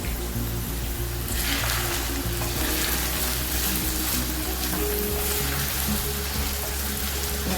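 Brinjal (eggplant) rice ingredients sautéing in a pan over a medium stove flame, a steady close sizzle and crackle with occasional stirring scrapes, continuous throughout with no talking.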